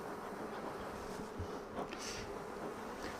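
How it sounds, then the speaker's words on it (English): Bees buzz around an open hive on a grey, rainy spring day while smoke keeps them calm; a steady, close swarm hum with individual bees droning past the ear, and no talking. "keeping the bees calm on this grey rainy day"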